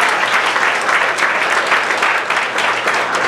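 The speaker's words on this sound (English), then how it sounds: "Let's give Kyla a big round of applause." Warm, steady applause from a Rotary meeting audience for a $500 scholarship winner, a dense continuous patter of many hands at moderate distance with no talking over it.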